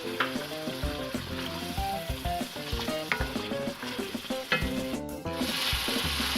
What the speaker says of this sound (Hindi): इसमें टमाटर ऐड करके इसको मज़ीद भूनेंगे।